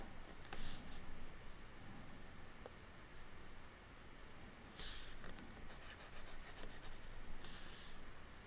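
A stylus scratches lines across a Wacom tablet while sketching hair, faint, dry strokes coming in short bursts over a quiet, hissy background, with no talking.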